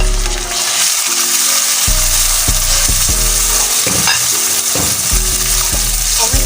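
Chopped tomatoes go into browned onions in a frying pan for a bheja (brain) fry masala, giving a steady close sizzle with stirring scrapes, while a tonal backing hum runs underneath throughout.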